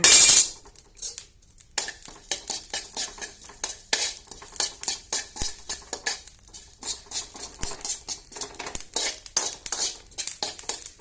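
Cumin seeds sautéing in a pan for pirandai chutney, a brief loud sizzle at the start giving way to repeated clinking spoon strokes and scraping against the pan, uneven and close, no voices.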